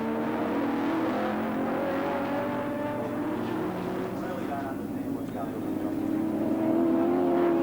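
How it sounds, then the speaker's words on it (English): Mazda RX-7 and Holden Commodore touring race cars lapping Oran Park in 1983, engines droning steadily near and loud throughout, with commentary running over the continuous roar. "Moffat again using all of the track and getting up on the ripple strips and tossing the Mazda around behind Brock's Commodore"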